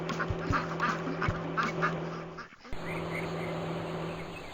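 Cartoon baby ducks quack in a busy, repeated chorus of short calls over a steady background, with a brief drop in the middle before the quacking resumes.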